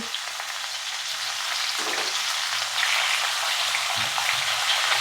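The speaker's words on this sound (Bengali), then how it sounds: "এগুলো দিয়ে একটু নাড়াচাড়া করে নেবো আমি" Vegetables including drumstick and pointed gourd being fried and stirred in a pan: continuous bright sizzling, close and fairly loud, with a few soft scrapes of stirring breaking through.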